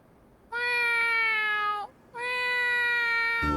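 Two drawn-out, tonal meows, each over a second long with a short pause between, sounding like a voice mimicking a cat.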